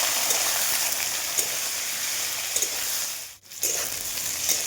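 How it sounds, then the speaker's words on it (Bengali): Potato and eggplant frying in a pan with chilli, giving a steady broadband sizzle with occasional stirring scrapes and a brief dip partway through. "এবার এটাকে ভালো করে কষিয়ে নেবো।"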